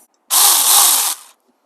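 A Saker mini electric chainsaw gives a short burst of high, whining motor noise that holds steady for under a second, then winds down quickly, loud and close with no one talking.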